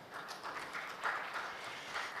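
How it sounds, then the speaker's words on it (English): A packed hall audience at an out-of-home advertising conference applauds, producing a soft, steady wash of many hands clapping at a distance, fairly quiet throughout with no speech. "a huge round of applause to all of us"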